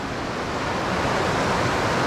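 The Youghiogheny River flows along its shore as a steady, dense broadband rush of water, loud and continuous without breaks, with no talking.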